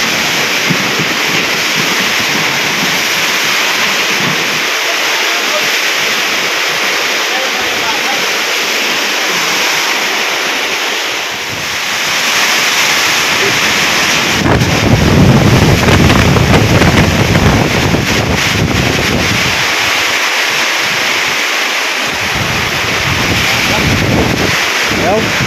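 Strong, roaring typhoon wind with no rain blasts steadily throughout, buffeting the microphone with gusts that surge louder midway.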